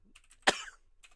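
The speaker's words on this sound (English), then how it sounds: "Sorry about the coughing." A single sharp cough, close and fairly quiet, with faint breathy sounds before and after.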